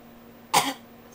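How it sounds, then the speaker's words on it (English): A single short, harsh cough stands out against near silence. "Have you ever pressed on your jugular and made yourself cough?"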